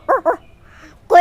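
A human voice mimicking a puppy: two quick yelping whimpers followed after a pause by a higher whining yip, short and close.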